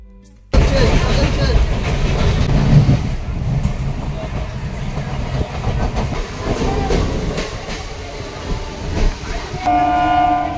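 A passenger train runs past with a continuous loud rumble and rattle of wagons, steady and close, as voices chatter over the noise and a brief horn-like tone sounds near the end.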